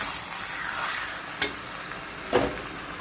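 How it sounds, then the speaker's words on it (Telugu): Mutton pieces fry and are stirred in ginger garlic paste for a bitter gourd mutton curry. A steady pan sizzle is broken by two sharp clacks of the stirring spoon. "అల్లం వెల్లుల్లి పేస్ట్ బాగా ఫ్రై అయిపోయిన తర్వాత మటన్ పీసెస్ వేసుకుంటున్నాం."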